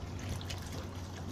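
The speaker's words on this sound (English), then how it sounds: "Let's wait for the siphon to stop." Water drains through a siphon from an outdoor aquaponics catfish aquarium, a steady soft trickling and gurgling flow, faint and continuous with no talk.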